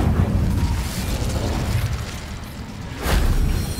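Incendio fire spell cast in Hogwarts Legacy, a loud sustained roaring burst with a fresh whooshing flare near the end.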